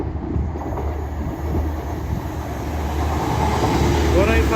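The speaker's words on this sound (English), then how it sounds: "the Transpennine 185 that we saw from earlier, going back to Saltburn." A TransPennine Class 185 diesel multiple unit passes close by on the line to Saltburn, a steady loud rumble of wheels and engine with a faint rising squeal near the end.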